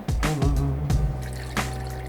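Water pours into a kitchen blender, with a few splashy knocks at the start and then a steady, close liquid rush. No one speaks.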